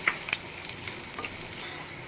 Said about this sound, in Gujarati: હવે આપણે આ લસણ ડુંગળીને એકદમ સરસ સાતળવા દેશું